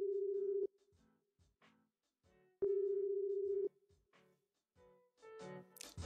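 A phone line rings out in the video game A Year of Springs: two long steady electronic tones, the second after a short pause, separated by quieter clicks and faint game sounds.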